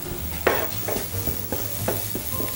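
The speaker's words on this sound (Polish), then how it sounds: "Należy to przesmażyć dokładnie," Onion frying in a pan while being stirred, a soft continuous sizzle with regular scraping stirs every half second or so, close and moderate in level, no speech.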